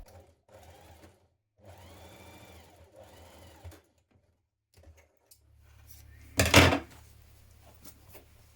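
Sewing machine stitching a 1 cm centre back seam on a fabric neck facing, running in several short bursts with pauses, close and fairly quiet, followed by a louder handling clatter near the end.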